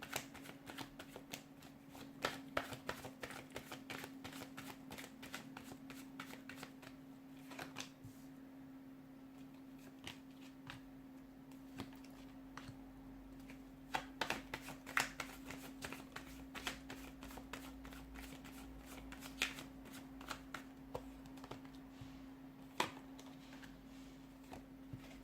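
A deck of tarot cards is shuffled over and over, with quiet, rapid papery flicks and riffles that come in uneven bursts over a steady low hum from the room.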